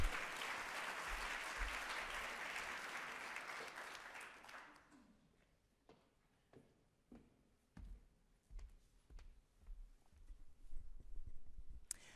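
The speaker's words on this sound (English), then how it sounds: "A round of applause." An audience at a talk on menopause applauds steadily for several seconds, then the clapping fades out into quiet room noise with scattered taps and footsteps.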